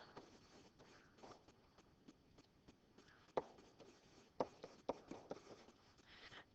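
Pen writing equations on paper, quiet scratchy strokes with a few sharper taps, fairly close and soft against a quiet room.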